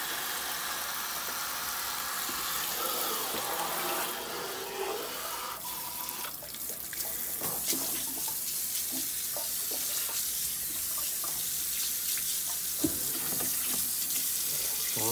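Cold tap water runs into a sink over pork belly as it is rinsed, a continuous splashing stream with shifting tone as the meat is moved and handled under the flow.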